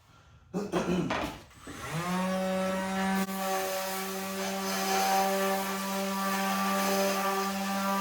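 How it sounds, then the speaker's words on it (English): A power sander runs over a wooden shelf, starting with a few knocks and scrapes before settling into a steady, loud, even motor whine that holds to the end without talk. "Let's do a quick sand and see if we can make it look more rustic."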